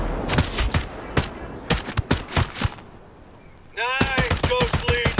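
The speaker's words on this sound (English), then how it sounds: "sniper fire!" Sniper and rifle gunfire in Ghost Recon Breakpoint: a string of sharp, loud cracks at irregular intervals, then a denser burst of rapid shots with ringing metallic tails, close and aggressive, with no speech.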